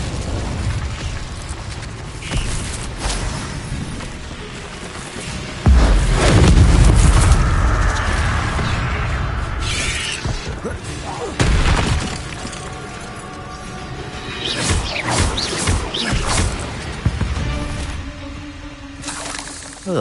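Blasting spells in Hogwarts Legacy combat, including an explosive Confringo, give loud booming bursts and shattering crashes among scattered impacts and magical whooshes.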